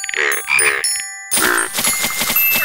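Cartoonish frog croaks in a Curious George kids' game arrive in two short bursts, then a longer run of ribbity croaking with bright chimes layered over it.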